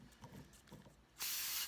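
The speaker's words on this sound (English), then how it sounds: "So I want to give it a spray coat here of primer." After a moment of faint shuffling, an aerosol can sprays a steady, loud hiss of primer close up, continuing to the end.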